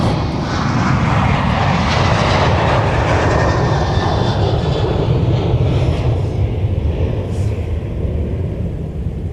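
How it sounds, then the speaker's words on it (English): A Sun Country jet airliner departs MSP airport with a loud, steady engine roar that stays close and powerful, then slowly fades and drops in pitch as it climbs away. "Here's a Sun Country departure to Anchorage."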